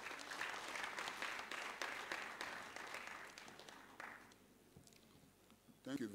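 Conference audience in Nigeria clapping steadily for about four seconds, then the applause fades, leaving a brief pause before a voice begins.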